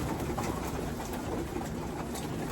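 A racing pigeon coos at a one-loft race in Capistrano, soft and low under a steady wash of broad outdoor noise, with no voices.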